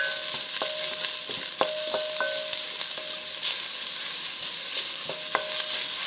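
Onion fries in a pan for pinakbet with a steady close sizzle, punctuated by sharp scraping and clinking of a utensil stirring against the pan.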